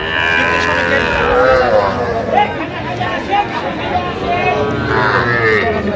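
Young bulls and heifers mooing loudly at close range at a cattle market in Dinajpur, several drawn-out calls over a busy crowd of people chattering in the background.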